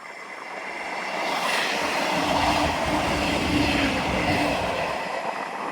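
A train rumbles past at moderate distance along the Teignmouth seawall, its steady wheel noise swelling and lingering, with a faint squeal riding over the rumble.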